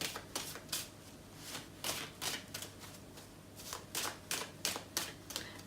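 Tarot cards being shuffled close up in a quiet room, with a quick run of crisp riffling flicks and taps that stop and start in bursts, and no talking.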